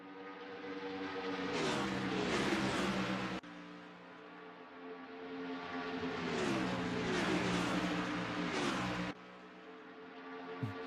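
Stock car engines of a Roblox race at Michigan, led by the number 13 Toyota Camry, drone loudly with rising and falling pitch, in two long sustained stretches that cut off abruptly, with no talk over them.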